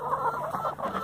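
Farm chickens cluck close by in a quick, chattering run of short calls that continues without pause and without any talk.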